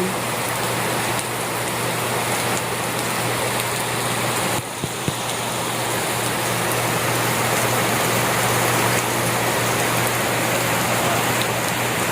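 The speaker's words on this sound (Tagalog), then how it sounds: "Maulan. Yung kapitbahay namin dito, nag-ulan. Naligo sila sa ulan." Steady heavy rain pours down, a dense, continuous hiss on surfaces, with a faint low hum underneath.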